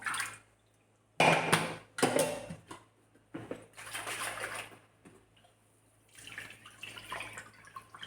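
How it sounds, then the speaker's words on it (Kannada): Water is poured over finger millet (ragi) in a bowl to wash it, giving short bursts of splashing and trickling with gurgling pauses between pours, close up and fairly quiet, with no talking. "ಹಾಗೆ ಚೆನ್ನಾಗಿ ನೀರನ್ನು ಹಾಕಿ ಈ ಥರ ಕ್ಲೀನಾಗಿ ಮಾಡ್ಕೊಳ್ಬೇಕು"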